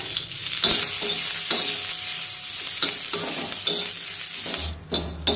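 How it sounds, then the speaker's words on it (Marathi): Garlic, cumin and green chillies sauté in a pan for tomato thecha, with a loud, close crackling sizzle broken by repeated spatula scrapes and stirs. "आता लसूण आणि जिरे मिरची सोबत परतून घेऊया।"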